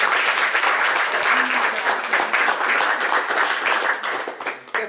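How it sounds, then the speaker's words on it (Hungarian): Warm applause from the audience at a painter's exhibition opening in Hungary, a dense burst of clapping that holds steady for several seconds and then begins to thin out. "Egy tapsot kérek"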